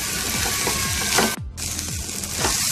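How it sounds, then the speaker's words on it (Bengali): Boiled chickpeas frying in a pan for a motor keema ghughni, a steady close sizzle with repeated scraping stir strokes and a brief break partway through. "সেদ্ধ করে রাখা ছোলাটা নিয়ে নিচ্ছি আমি এর মধ্যে, নেওয়ার পরে এটাকে আমি 3 থেকে 4 মিনিট মতো"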